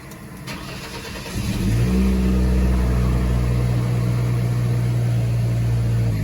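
A Ford Ranger pickup with an engine that cuts out cranks and starts, then settles into a loud, steady idle hum close by, with no speech.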